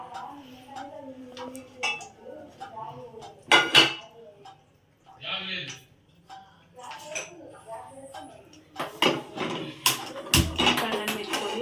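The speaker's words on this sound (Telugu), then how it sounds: "ఇప్పుడు దీనికి ఫస్ట్ ఏం చేయాలంటే ప్యాన్ పెట్టుకుని" A frying pan set down on a stove for a bread sandwich, with metallic clinks and knocks of cookware amid kitchen handling, while a person talks over the sounds.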